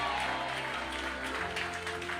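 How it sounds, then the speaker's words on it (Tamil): A church congregation of parents claps together, a dense, steady wash of applause that fills the space evenly from start to finish, with no voices rising above it. "பெற்றோரெல்லாம் கைத்தட்டி உங்க பிள்ளைகளுக்காய் நன்றி சொல்லுங்கள்"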